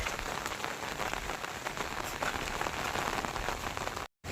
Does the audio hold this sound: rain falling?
yes